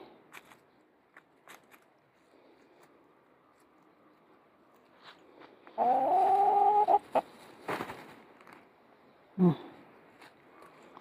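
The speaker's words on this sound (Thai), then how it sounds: "ปล่อยไก่ออกหากินแป๊บหนึ่ง" Chickens cluck nearby in short bursts, with one louder drawn-out squawk midway, amid scattered soft pecking and rustling sounds.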